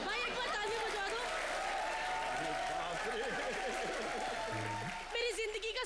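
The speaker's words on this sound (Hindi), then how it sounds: "भाई एक बार तालियां बजवा दो।" A television comedy show's studio audience applauds as a continuous wash of clapping, partly covered by loud voices talking over it.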